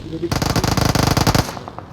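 Rapid automatic gunfire from the video game PUBG Mobile, a loud, dense burst of shots lasting about a second, followed by a few fainter scattered shots.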